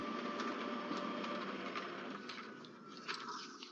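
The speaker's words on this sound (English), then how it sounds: "it's going to print off a cleaning page for me" A laser printer runs a cleaning page, with a steady mechanical whir and rhythmic feed clicks that continue without pause at moderate volume.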